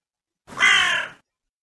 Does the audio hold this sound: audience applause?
no